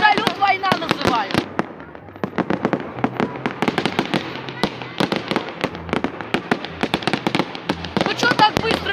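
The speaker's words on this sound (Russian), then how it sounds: "Я вот этот салют война называю." Fireworks salute bursting in rapid, dense crackling volleys, loud and continuous throughout, with people's voices mixed in beneath the explosions.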